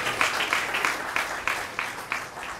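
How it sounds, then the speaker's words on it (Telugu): A church congregation applauds during a Sunday service, the clapping coming in steady rhythmic bursts roughly every quarter second, fairly loud and close with a crowd-like wash behind it. "let's give a big clap an to the lord"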